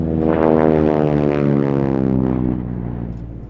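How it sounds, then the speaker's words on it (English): A vintage piston aircraft engine at an air festival roars past in a rich, harmonic drone, loud and close at first, then gradually fading as it moves away, with no voices. "That's a wonderful sound from that engine."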